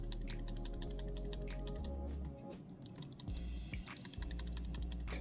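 A BOBLOV F2 body camera rattles in quick, close, clicking bursts with short pauses, loud and alone with no talk.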